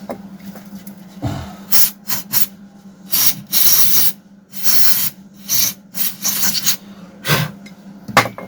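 Compressed air blows out chainsaw parts in repeated short hissing bursts, close and loud, with brief gaps between blasts.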